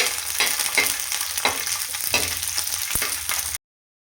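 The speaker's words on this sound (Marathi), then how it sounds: "आता हे आपल्याला छान ब्राऊन होईपर्यंत भाजून घ्यायचं." Onion, coconut, garlic, green chilli and ginger roast together in a pan, a close, busy sizzle with frequent scraping stirs at an uneven rhythm, ending abruptly in silence.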